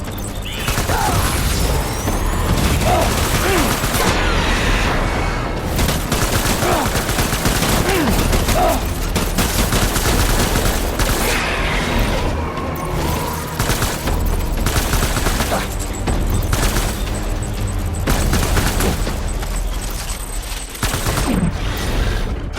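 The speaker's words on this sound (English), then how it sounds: "Open fire." Heavy gunfire in the Death Stranding video game, dense continuous bursts of automatic fire and mechanical clatter with booms, loud and relentless for the whole stretch, and faint voices under the din.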